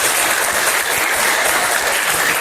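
Loud, dense applause from a high school class, many hands clapping steadily and close by for a couple of seconds.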